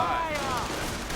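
Machine gun fire in a WWII strategy game, from an MG42, comes as a rapid close burst that fades out under battle noise.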